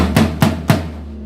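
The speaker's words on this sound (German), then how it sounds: "Das hier ist ein 14 Zoll Snom. Also es ist ein 14 x 14 Zoll Floor Tom." Three hits on a 14 x 14 inch floor tom, each a loud, deep, boomy strike with a ringing low tail, evenly spaced and played alone without talk.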